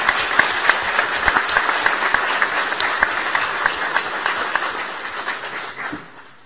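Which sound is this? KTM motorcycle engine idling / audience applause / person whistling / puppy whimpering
audience applause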